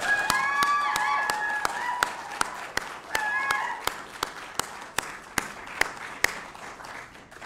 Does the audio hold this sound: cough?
no